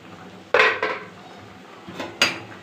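A metal lid comes off a pot of simmering dumpling curry, then a ladle stirs inside it, producing a few sharp metallic clanks and scrapes close by with short pauses between them.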